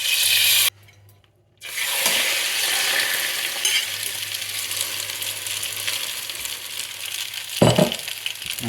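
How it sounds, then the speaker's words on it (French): A knob of butter and a tablespoon of oil sizzle loudly and steadily in a hot frying pan, with a brief quiet gap near the start and a sharp clink near the end. "Donc là je vais mettre une noisette de beurre et une cuillère à soupe d'huile."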